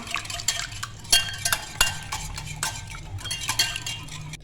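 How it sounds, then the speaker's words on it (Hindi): A spoon mixes chicken with oil and yogurt in a bowl for tandoori sticks, giving close, irregular wet squelches and sharp metallic clinks against the side, with no talking. "और पहले इनको अच्छे से मिक्स कर लेंगे।"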